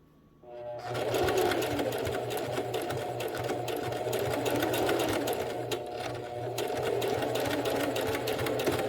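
A sewing machine stitches a basic fabric hem, starting abruptly after a moment of quiet and then running in a steady, close, even whirring hum that continues without voices.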